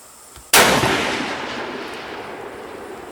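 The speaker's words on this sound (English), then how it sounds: "Well, fire one more, Kenny." A single loud rifle shot outdoors from a Thompson Center Venture in 7mm-08, a sharp crack followed by a long rolling echo that slowly fades.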